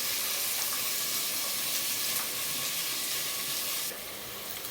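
Onions fry in oil in a pan for Bengali-style mutton curry, a steady close sizzling hiss with light stirring that eases slightly near the end, no talking.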